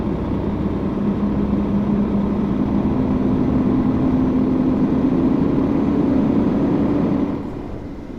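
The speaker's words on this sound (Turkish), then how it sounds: "Motor sesi mükemmel." Engine of a Mercedes-Benz Axor truck hauling a fuel tanker in the Euro Truck driving game, a steady loud drone with a slowly rising tone, dropping off near the end.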